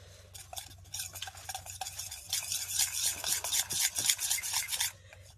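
Flour being stirred into a spice mixture in a home kitchen, soft rhythmic scraping and rubbing of a spoon against a bowl, close and fairly quiet, with no talking.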